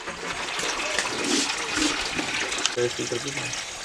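Water gushes and splashes as it is poured out for cows to drink at their ten o'clock morning watering, a steady close flow running under a voice.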